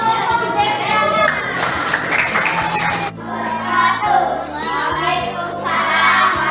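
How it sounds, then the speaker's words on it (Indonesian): Schoolchildren in a classroom clap for a group, the clapping mixed with lively chatter and children's voices throughout, fairly loud and close. "Tepuk tangan untuk kelompok Deviana."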